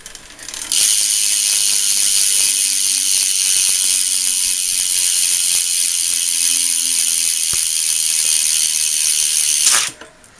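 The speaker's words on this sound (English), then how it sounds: "That's how loud my rear hub is." A bicycle rear hub freewheel ratchets loudly and continuously for about nine seconds, a fast dense buzzing click that starts abruptly and stops at the end, close to the listener with no talking.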